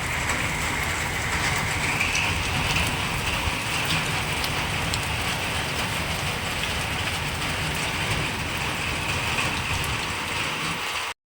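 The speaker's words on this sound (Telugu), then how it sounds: "ఇవాళ బెంగళూరులో ఈ సంవత్సరం మొదటి వర్షం స్టార్ట్ అయింది చూడండి" Steady rain falls in Bangalore, the first rain of the year, as an even, dense patter that stays constant and fairly close for the whole stretch before cutting off abruptly, with no voices.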